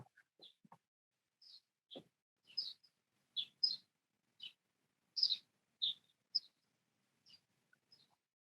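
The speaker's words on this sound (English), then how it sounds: "Who have birds singing, Pavel or Monica?" Birds chirp in short, bright bursts from a nest tucked into window shutters, about a dozen separate tweets spread irregularly and heard fairly close against a quiet background.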